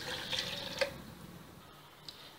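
Cold water pours into a container for mango lassi, a soft liquid splash and trickle that tapers off after about a second, with no talk.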